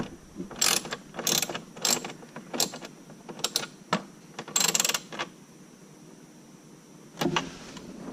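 Ratchet driving a screw while installing the center console of a Saturn Sky, with quick bursts of close clicking pawl strokes in irregular groups, a short pause, then one last burst.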